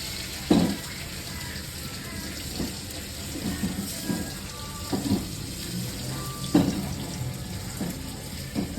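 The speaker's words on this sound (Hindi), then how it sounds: "आलू डाल दें और आलूओं को भूनना शुरू कर दें" Potatoes fry with cumin in a pan, giving a steady close sizzle and hiss broken by a few brief clatters of stirring.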